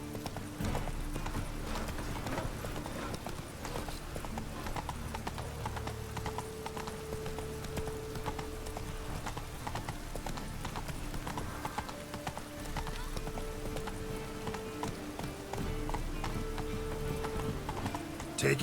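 A horse gallops in The Witcher 3, its hooves clip-clopping in a steady, driving rhythm. The hoofbeats are close and loud and run the whole time over a continuous game soundscape, with a brief whinny possible.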